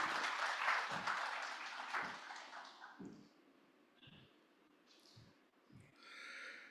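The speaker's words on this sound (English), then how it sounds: "Round of applause, please." Applause from an audience at a mobile commerce event, a brief burst of clapping that fades within about three seconds, followed by quieter scattered sounds and soft knocks.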